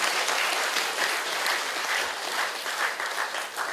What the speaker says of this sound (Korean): 이 강의 듣느라고 고생하신 여러분을 위해서 박수.